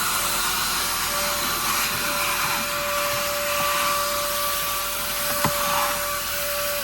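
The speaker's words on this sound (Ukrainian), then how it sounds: "І ще дивіться, який ми маємо крутий пилосос в машині." A battery-powered handheld car vacuum cleaner runs inside a MAN TGL truck cab, a loud steady whine and airy roar close by, with a sustained motor tone and one brief knock partway through, no talking.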